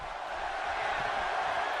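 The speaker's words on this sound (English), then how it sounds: "Crowd on their feet here in the impact zone." A wrestling video game crowd cheering in the arena, a steady, dense roar of many voices that holds loud and even throughout.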